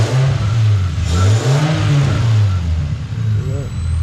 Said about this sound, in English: So let's go ahead and rev it a little bit.